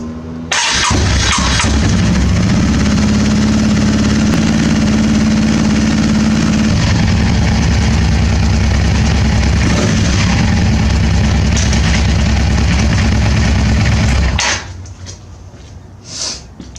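A Yamaha V-Star 650 motorcycle engine cranks and fires up, settling into a loud, steady, close rumbling idle after fresh spark plugs, then cuts off near the end, leaving a quieter background.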